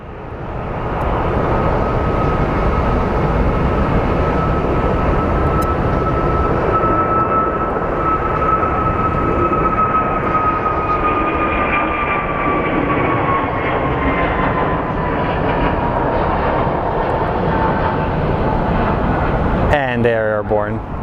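An airliner takes off from Sky Harbor International Airport in Phoenix, its jet roar loud and steady with a sustained whine that slowly falls in pitch as it climbs away, while people talk nearby.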